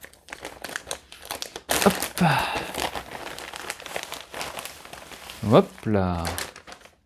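Plastic packaging around a France 2024 football jersey is opened, giving close crinkling and rustling in irregular bursts, with someone talking briefly over it.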